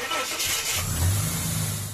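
A Ford Falcon's engine is cranked and catches on the second try, the starter churn giving way to a low, steady running rumble up close, with no talking.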